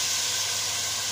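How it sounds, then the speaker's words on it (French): Water pouring into a cooking pot for a homemade broth, a steady close hissing rush that runs unbroken for about a second. "Maintenant, je vais mettre l'eau."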